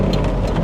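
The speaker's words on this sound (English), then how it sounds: "Oh, there was some thunder just now." Thunder rumbling loudly during a summer rainstorm at Zion National Park, a deep low roll under the steady hiss of heavy rain.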